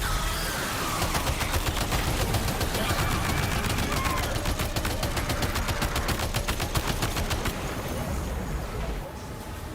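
Rapid automatic gunfire from the Death Stranding 2 video game, set in snowy Australia, rattles in dense repeated bursts for nearly the whole stretch, loud and close, with game ambience beneath and a brief drop-off at the end.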